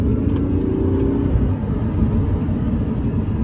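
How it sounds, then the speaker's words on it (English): An Audi R8 in sports mode accelerating, its exhaust giving a loud, close, continuous low rumble that holds steady throughout with no talk over it. "As you can hear, the exhaust got louder as well with it."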